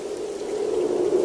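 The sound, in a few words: rain falling in animated story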